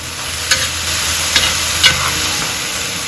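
Lamb and chopped tomatoes are stir-fried in a wok, giving a close, steady sizzle with a few soft scraping strokes of the spatula, no voices present.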